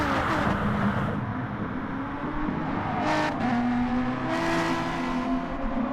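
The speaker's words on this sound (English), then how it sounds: "You heard Flutter get into the gas really early right there." A race car in a NASCAR racing video game accelerates hard, its engine a sustained loud roar with rising pitch and a second car whooshing past, no voices.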